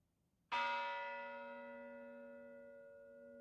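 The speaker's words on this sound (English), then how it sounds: "the bell you will hear is from the USS Arizona, one of two bells salvaged from the sunken ship" A single bell salvaged from the sunken USS Arizona is struck once, ringing out clear and loud with a long, slowly fading resonant hum at a Pearl Harbor remembrance ceremony.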